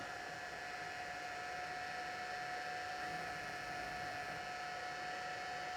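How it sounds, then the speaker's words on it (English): A heat tool for card making runs while warming up, giving a steady, faint blowing whir with a thin constant whine, unchanging throughout and without speech. "it'll take just a second for our heat tool to warm up"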